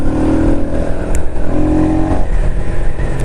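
A Suzuki Raider 150 motorcycle engine revving nearby, a loud, buzzing roar that rises and holds briefly with no talk over it.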